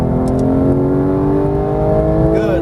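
A GT3 race car accelerates on a track, its engine holding a loud, steady drone with a rising pitch toward the end.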